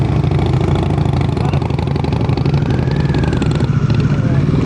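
A motorcycle engine runs loud and close, its revs rising and wavering as it pulls away during a group riding lesson, with some talking mixed underneath.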